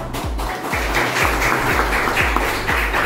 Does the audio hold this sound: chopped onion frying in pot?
no